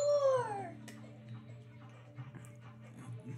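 A dog gives a short howl that slides downward in pitch at the start, then fades into quieter whimpering noises over a low steady hum.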